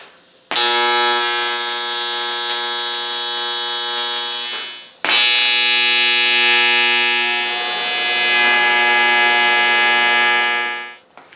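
Welding a part for an Indian Larry intake gives two long, steady electrical buzzes, each lasting several seconds with a short break between them. The hum is loud, close and harsh, and no voices are heard.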